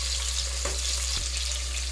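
Onions frying in a pan, a steady broadband hiss of sizzling oil with a couple of brief soft clinks of stirring, fairly loud and continuous with no speech.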